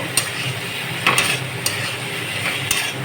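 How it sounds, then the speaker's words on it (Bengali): A paste of onion, green chilli and garlic sizzles steadily in a pan while it is stirred, with several distinct spatula scrapes against the metal cutting through the frying at uneven intervals. "দিয়ে দিলাম পেঁয়াজ কাঁচা লঙ্কা রসুন যে পেস্টটা করলাম সেটাও দিয়ে দিলাম দিয়ে এবার এগুলো সব দিয়ে একবারে কষাবো"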